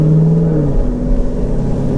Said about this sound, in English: You just got passed by the third car.